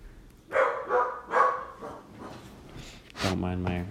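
A roommate's dog barks indoors in the background, two muffled woofs followed by a sharper, closer yelp, with no talking over them.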